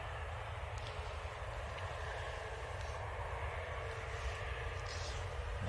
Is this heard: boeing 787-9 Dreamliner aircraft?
yes